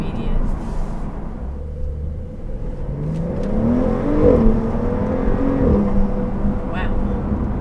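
A Porsche 911 Carrera S pulls away in a moderate launch, its engine note rising steadily and sweeping up in pitch from inside the cabin, with a continuous low rumble underneath.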